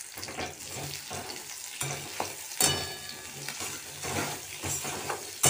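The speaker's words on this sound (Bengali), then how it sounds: "আর আলু ভাজা হচ্ছে" Sliced potatoes fry in a pan on a home stove, giving a close, steady sizzle broken by repeated scraping stirs and light clinks of the spatula. No one speaks.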